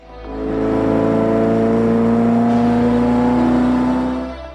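A Ferrari F40 supercar engine revs up in a smooth rising swell, holding a strong sustained tone before easing off, loud and close with no voices.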